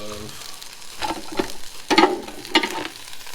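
Smoked sausages sizzle and crackle on a Ninja Foodi Grill, a steady close frying hiss with a few louder spitting bursts rising through it.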